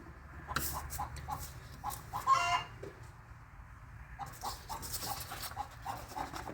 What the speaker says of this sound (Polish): Kurwa z tą kurą u sąsiada.